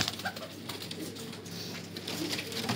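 Highflyer breeder pigeons in Lahore coo softly and repeatedly, low throaty calls close by over a constant background murmur.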